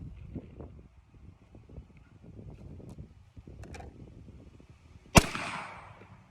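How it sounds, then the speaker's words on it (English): A single sharp 9mm pistol shot at target practice cracks out loud near the end, ringing briefly after a stretch of faint low rumble and handling noise. "I am not shooting for accuracy, so if you're not hearing plinks, that's because I'm trying to get this group finished"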